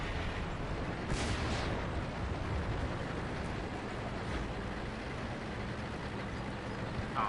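Tank cannon fire in the armored combat game World of Tanks, heavy booming shots and rumbling battle noise heard from inside a tier 8 Caernarvon, with muffled blasts over a constant engine drone.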